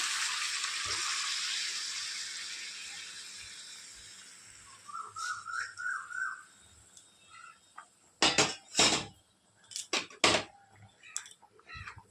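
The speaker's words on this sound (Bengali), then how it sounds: "গরম জলটা যে করে রেখেছি ওটা দিয়ে দেবো।" Hot water poured into chicken curry cooking in a pan, a soft hiss fading at first, then gurgling and several sharp clinks and scrapes of utensils against the pan, fairly quiet and close.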